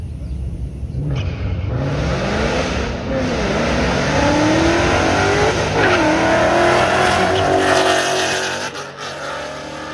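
A 2021 Ford Mustang Mach 1 sliding sideways, its engine roaring loud and steady throughout with rising and falling revs, tire noise mixed in, close and continuous for the whole stretch before fading at the end.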